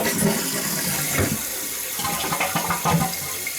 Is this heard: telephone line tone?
no